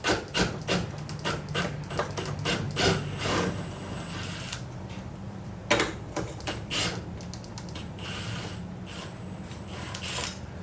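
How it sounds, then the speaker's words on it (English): Two transmission mount bolts being removed with a ratchet during a clutch job, heard as close, rapid mechanical clicking in repeated bursts with short pauses and no talking. "I am going to go ahead and take off the tranny mount, which only has 2 bolts in it."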